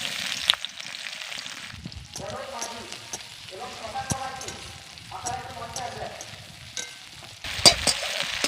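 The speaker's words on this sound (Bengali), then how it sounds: "এবার তেলের মধ্যে দিয়ে দিচ্ছি কেটে রাখা পেঁয়াজ" Chopped onions drop into hot oil and fry with a crackling sizzle, broken by irregular stirring scrapes and soft knocks, louder toward the end.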